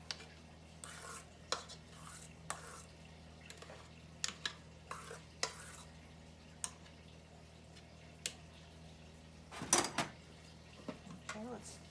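Utensils scraping and knocking in a cooking pan, faint and close, in short irregular taps and scrapes with a louder cluster of clatter near the end, over a low hum.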